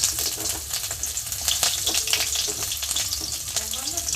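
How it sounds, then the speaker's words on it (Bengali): Chopped green chilies and ginger hit hot oil while pea patties are being made, producing a loud, continuous crackling sizzle close up, with a constant spattering texture throughout. "তেল গরমের মধ্যে আমি কাঁচা লঙ্কা দিয়ে দেবো, কাঁচা লঙ্কা কুচি,"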